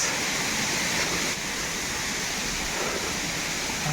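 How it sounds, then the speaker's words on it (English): A village waterfall pours in a dense, steady wash of broadband rushing noise that stays even and continuous throughout, with no voices. "This is the so beautiful waterfall in our village."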